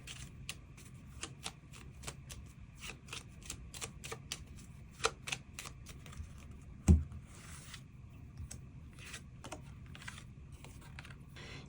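Tarot cards being drawn and shuffled on a table, a quick run of crisp clicking and flicking taps with one louder knock midway, close and quiet, with no talk.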